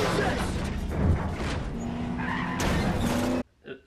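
A car in Need for Speed skids with a loud tire screech and rumbling impact noise, continuous for about three seconds before cutting off abruptly, with a voice briefly exclaiming over it.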